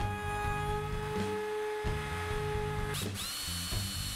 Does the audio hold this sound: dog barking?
no